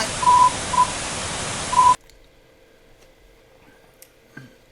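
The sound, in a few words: Morse-like tones in an ARG sound puzzle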